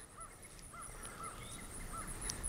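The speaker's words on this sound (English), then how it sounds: "as the birds and the crows are calling." Several crows caw in short, separate calls over steady outdoor ambience, with other birds chirping faintly in the background and no talking.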